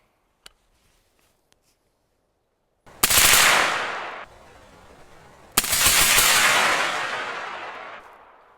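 Two long bursts of very rapid rifle fire from a rifle fitted with a forced reset trigger, each lasting a couple of seconds, loud and close, with faint clicks before the first burst.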